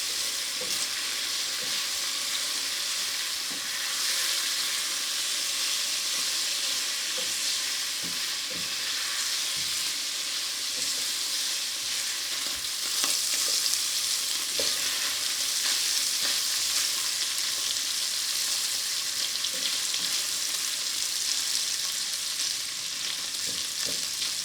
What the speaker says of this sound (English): So let this sit here and saute for about 2 or 3 more minutes.